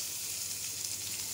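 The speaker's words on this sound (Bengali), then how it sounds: "সরু সরু করে পটল কেটে কালো জিরে কাঁচা লঙ্কা দিয়ে ভাজা হচ্ছে।" Thinly sliced pointed gourd frying with nigella seeds and green chilli makes a faint, even sizzle in a short, steady burst.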